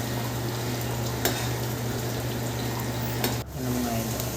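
Potatoes and carrots frying in a pan for chicken curry, a steady soft sizzle with a low hum beneath and an occasional clink or stir, close and continuous.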